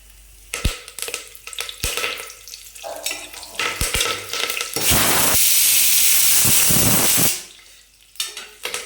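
Curry leaves dropped into hot oil with fried cashews burst into a loud, hissing sizzle lasting a few seconds, preceded and followed by clinks and scrapes of a utensil against the pan.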